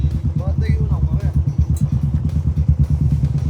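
A motorcycle engine runs steadily nearby with a pulsing low rumble throughout, and voices talk over it.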